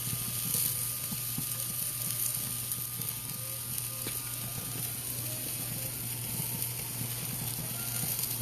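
T-bone steak searing on an outdoor grill, a steady broadband sizzle with a constant low burner hum underneath, holding at an even level throughout with no talking.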